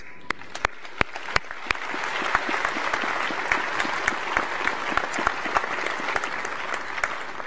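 Applause at a university graduation ceremony, starting with a few sharp, separate claps that swell into sustained, moderately distant clapping from the audience.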